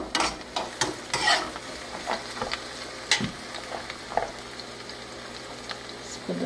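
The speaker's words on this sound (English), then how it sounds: "So we're going to allow this to saute for a little while." Celery and sweet peppers sauteing in a pan on the stove, a soft steady sizzle broken by scattered clicks and scrapes of a utensil stirring, close and moderately quiet with no talk.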